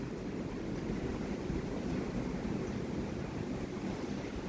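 Strong gusty wind in a thunderstorm in southeastern Pennsylvania, a steady, loud broadband roar of rushing air and buffeting with no clear lulls, heard alone without voices.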